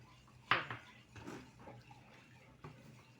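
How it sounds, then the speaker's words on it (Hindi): A spoon stirs boiling milk in a metal pot while a mango dessert is made, giving a sharp clink followed by a few quieter scrapes and soft bubbling, close by and without talk. "अब दूध तो उबल रहा है ना, तो इसको ना मिक्स करना है"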